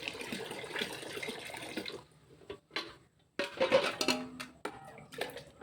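Onion-peel fertilizer water splashes and trickles as it is poured onto plants, in irregular faint bursts of liquid with brief pauses between pours, close by.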